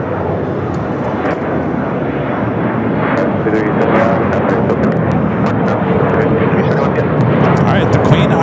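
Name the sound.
airliner taking off at LAX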